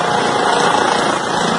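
A helicopter transporting a politician's daughter, a steady loud rotor and engine roar filling the whole stretch with no voices.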